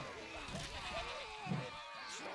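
Sheep bleat in the video game Overlord, several short wavering cries at low volume under a voice, with soft game sounds in the background.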